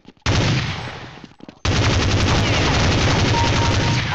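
Sustained automatic gunfire from Counter-Strike 1.6, loud and close, a brief burst followed by a long unbroken stream of rapid shots after a short gap.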